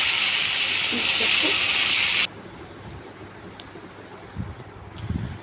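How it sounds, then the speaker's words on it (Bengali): Beef spleen fries in hot soybean oil with a loud, bright hiss that cuts off abruptly after about two seconds, followed by quieter kitchen rustles and a few faint clinks. "যেহেতু তিল্লিগুলো তেলে ভাজছি"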